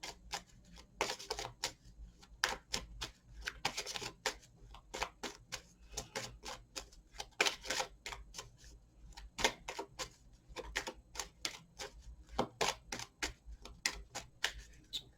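Tarot de Marseille and oracle cards are cut and shuffled, making rapid irregular papery clicks and snaps close by, with brief pauses between bursts.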